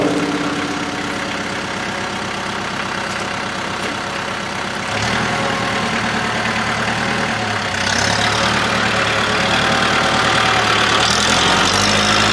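A tractor engine idles nearby outdoors with a continuous, fairly loud mechanical drone that shifts in tone and level a couple of times as it keeps running.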